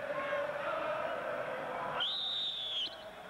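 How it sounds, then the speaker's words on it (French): Referee's whistle at a televised football match, one sharp shrill blast lasting about a second, rising over a steady murmur of the stadium crowd, with no voices. "il y a eu un coup de sifflet de Michel Vautreau"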